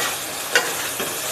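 Steamed taro stolons dropped into a pan of frying onions, green chili and crushed garlic, giving a steady close sizzle with a sharp spike as they land and a second smaller burst a moment later.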